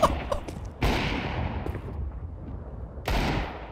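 Video game gunfire sounds as two sharp, loud shots with decaying echoes, near and alone, with a few faint clicks at the start.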